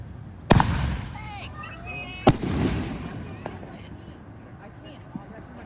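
Backyard fireworks going off outdoors: two sharp, loud bangs a couple of seconds apart, each followed by crackling and fizzing tails, with faint pops and distant voices in the background.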